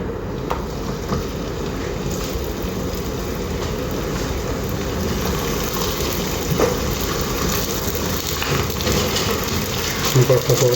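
Parotta flatbread frying in hot oil in a pan on a home stove, a steady dense sizzle and crackle running throughout at moderate loudness, with brief faint clatter near the end.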